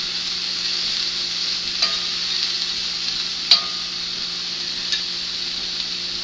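Pork and scrambled eggs are stir-fried in a pan, making a steady sizzle with a few light scrapes of the stirring utensil.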